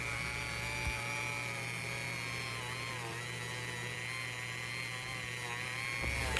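A die grinder fitted with a large buffing wheel whines steadily and close while polishing chrome, holding an even high-pitched drone with a low hum beneath.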